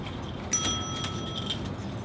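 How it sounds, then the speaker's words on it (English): Metal keys jangle near a door at an event hall that won't unlock, starting with a sharp clink and continuing as light metallic rattling over a low background hum. "My keys aren't working."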